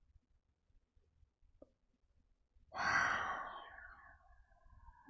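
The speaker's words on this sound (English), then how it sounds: "Another breath." A single slow, deep exhale during a Kundalini-inspired yoga session swells loud and close after a near-silent pause, then tapers off gradually.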